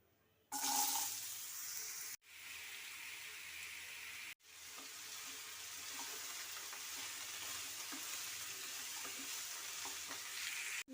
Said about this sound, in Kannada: ನೋಡಿ ಇದು ಬ್ರೌನ್ ಕಲರ್ ಬರೋವರೆಗೂ ಫ್ರೈ ಮಾಡ್ಕೊಳ್ಳೋಣ